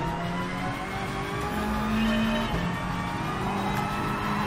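In the Gran Turismo Sport racing game, a car engine stays loud and continuous as it accelerates through a cone course without braking, its pitch rising and falling through the bends with no talking.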